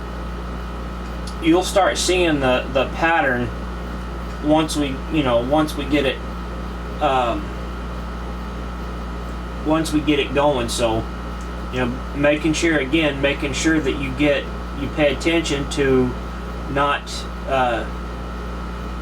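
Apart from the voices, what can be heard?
air conditioner running in background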